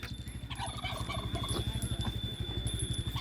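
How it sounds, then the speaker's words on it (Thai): A nearby turkey gobbles repeatedly in quick, rattling pulses over a steady hum at a Thai household merit-making gathering. "ไก่งวง ไก่งวง ไก่งวง"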